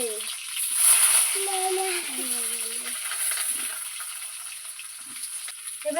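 Potatoes frying with salt and turmeric in a pan give a soft, steady sizzle with faint stirring and scraping, moderately quiet and close, running continuously throughout.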